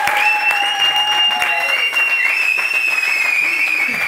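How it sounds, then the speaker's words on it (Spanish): A television studio audience applauds loudly and steadily throughout, with a host's voice and a bright music tone carrying over the clapping. "Un aplauso para ella, por favor."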